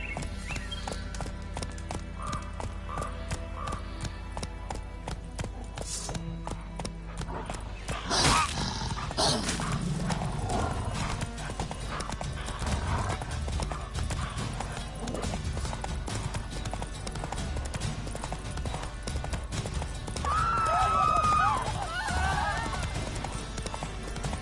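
Roach, the horse in The Witcher 3, moves with steady clip-clopping hooves across game ground, joined by a whinny and a dog barking amid the game's ambient sound; someone talks over parts of it.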